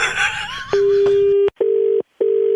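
A phone line cuts off on a radio prank call, then a steady electronic tone beeps in repeated pulses separated by short silences, clear and close.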